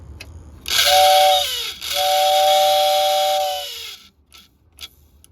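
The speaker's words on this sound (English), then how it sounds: "Old 1947 whistle." A 1947 Lionel toy train steam whistle blows on a test track in two long, loud, steady hissing blasts with a short break between them, then fades out.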